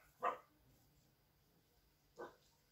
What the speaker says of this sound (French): c'est mon petit chien